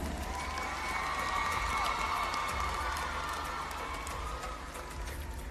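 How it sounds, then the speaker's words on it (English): Audience applause at the Miss Pacific Islands beauty pageant, a sustained wash of clapping and crowd noise from a large hall, steady for several seconds with no clear voices on top. "Another round of applause for Miss Solomon Islands."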